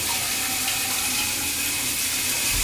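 Warm water runs steadily from a tap for cleaning a trombone, a continuous loud hissing splash with no pauses.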